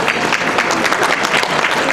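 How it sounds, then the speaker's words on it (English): Applause from an audience at a keynote talk, a dense burst of many hands clapping steadily for a couple of seconds with no talk over it. "There you go, there's a clap for you."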